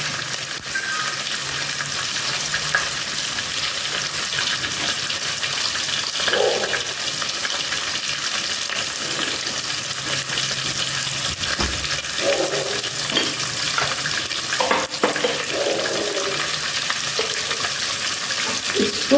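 Cinnamon sticks frying in a pan for a quick horse gram curry give off a steady, close sizzle. It runs unbroken the whole time, with a few light stirring scrapes and clinks on top.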